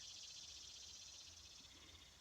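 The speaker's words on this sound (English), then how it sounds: "the cicadas singing" Cicadas buzz in a continuous shrill, pulsing chorus, faint and distant, over a quiet low background with no talking.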